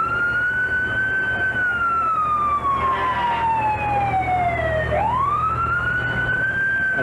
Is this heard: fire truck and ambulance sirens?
yes